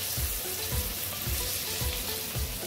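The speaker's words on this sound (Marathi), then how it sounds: "परत एकदा खालीवर करून 5 मिनिटं फ्राय होऊन देते।" Pomfret fish frying in a pan, Konkan style: a steady broadband sizzle of hot oil runs throughout, with soft low thumps recurring about every half second, and no voices.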